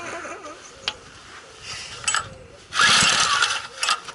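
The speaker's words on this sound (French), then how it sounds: "Honda, test de démarrage numéro 2." A Honda engine being pull-started: a few sharp ratcheting, mechanical cord pulls and clatters in separate bursts, the loudest near the end, with no steady running note.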